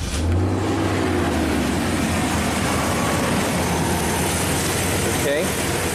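Engine of a 1998 Chevy K2500 truck with a misfire, idling loud and close with a steady low rumble and hiss, a voice talking briefly over it.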